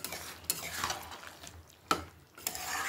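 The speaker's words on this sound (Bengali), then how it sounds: "আবারও মাংসগুলোকে নাড়াচাড়া করে দেব" Mutton curry stirred in a pot, with a spoon scraping and knocking against the sides in scattered strokes and a couple of sharper clinks, close and moderately quiet, with no talking.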